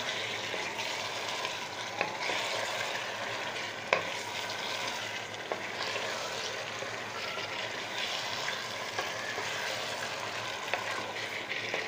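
Large chicken pieces added to hot spiced oil in a pan, giving a continuous quiet frying hiss with occasional small clicks and pops.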